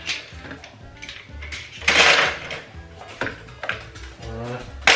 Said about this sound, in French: La vaisselle vidée, ça c'est bien, une bonne chose de faite.